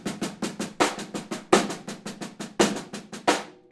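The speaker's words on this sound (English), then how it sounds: "We're going to take paradiddle diddle and paradiddle" A drum set plays a paradiddle-diddle and paradiddle sticking pattern, alternating hands in quick, even strokes with regular accents, close and clear with no talking.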